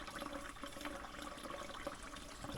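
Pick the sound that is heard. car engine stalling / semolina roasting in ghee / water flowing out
water flowing out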